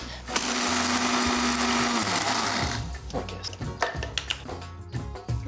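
An electric grinder whirs loudly as it grinds peeled black cardamom for Pakistani cooking, a steady motor roar for about three seconds that then cuts off, followed by clatter and handling noises.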